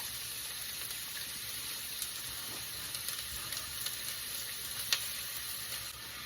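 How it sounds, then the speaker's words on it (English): Chopped onion sizzles quietly in a pan on medium heat, a soft, even hiss with one faint click, heard alone without voices. "I started my pan off at a good medium heat. She seems like she's ready to go. So I'm gonna add in my onion."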